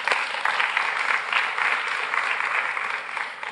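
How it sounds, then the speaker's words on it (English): Audience applause fills a conference session, a steady dense wash of many hands clapping at even loudness throughout, with no voices over it. "should we applaud for that?"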